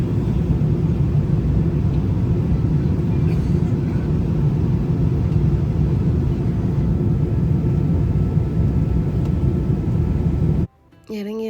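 An Emirates airplane landing at San Francisco, heard from the cabin as a loud, steady low roar and rumble that holds throughout, then cuts off abruptly near the end.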